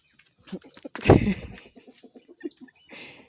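Chickens and roosters cluck in short scattered bursts, with one louder squawk partway through, close by against a faint steady background hum on a rural Kenyan farm.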